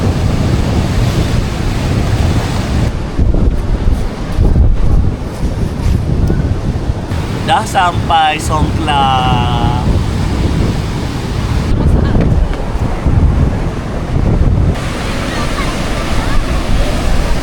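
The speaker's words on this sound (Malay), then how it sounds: "Rasanya ombak daripada semalam agak besar ombak ni." Surf rolls in steadily at Samila Beach in Songkhla, mixed with gusting wind buffeting the microphone, while someone talks over much of it in the foreground.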